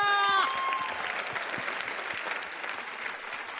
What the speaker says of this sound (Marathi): एकदा संगीत सम्राटसाठी जोरदार टाळ्या.